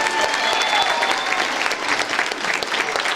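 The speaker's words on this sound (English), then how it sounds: "So let's give her a big round of applause as well." Audience applause at a school Grinch stage production, a steady burst of dense hand clapping from a full room, filling the whole short stretch without talk.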